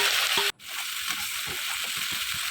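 Seeded chilies and onions fry in a pan with a loud, close, continuous sizzle. It dips sharply for a moment and then settles back into an even crackle.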